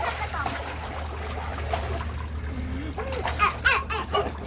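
A child splashes in a swimming pool in the afternoon, with light sloshing and a few sharper splashes near the end, under an adult's coaxing voice and bursts of giggling.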